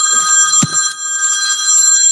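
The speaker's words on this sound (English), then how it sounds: "I have a phone call." A telephone rings with a steady electronic tone that holds through the whole moment, loud and close, with a brief low thump partway through.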